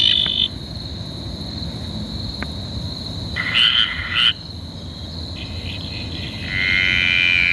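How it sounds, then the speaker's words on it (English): Graceful tree frog calls played from a phone app during a night outing, with repeated high trilling croaks that come and go over a steady bed of insects and crickets, fairly close and without voices. "Gracelenta, so that's the graceful tree frog."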